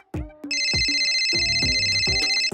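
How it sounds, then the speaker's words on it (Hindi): An incoming-call phone ringtone plays loud and close, a bright repeating electronic tune over a few thumping knocks. "अरे मोंटी का फोन है।"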